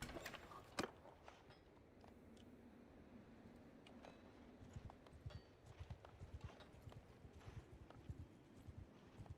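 Horses clip-clop in Mount and Blade II: Bannerlord, a steady stream of hoof clatter moving at a walk, fairly close and continuous against a busy game soundscape, with no talk over it.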